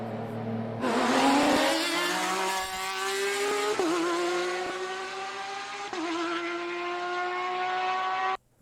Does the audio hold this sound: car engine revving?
yes